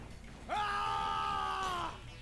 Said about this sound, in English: That scream, my god.